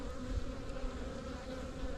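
Honeybees from a hive colony give off a dense, steady buzz, a continuous close drone of many wings with no voices over it.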